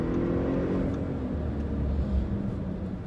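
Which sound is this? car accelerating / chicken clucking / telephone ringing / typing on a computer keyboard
car accelerating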